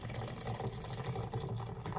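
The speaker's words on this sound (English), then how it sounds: "Pouring it hard" Nitro Pepsi is poured hard from a can into a mug, giving a steady, close rush of splashing and fizzing liquid throughout.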